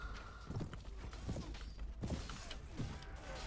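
Horse hooves in Mount and Blade Warband: faint, soft clip-clop steps at an uneven pace under low mechanical creaks and game ambience.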